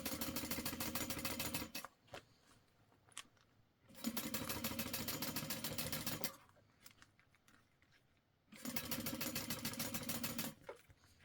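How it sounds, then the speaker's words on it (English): A sewing machine top stitching the exterior piece of a clear backpack, running in three fast rattling bursts of a couple of seconds each, separated by quiet pauses with small handling clicks, close and alone. "we're top stitching on the exterior piece"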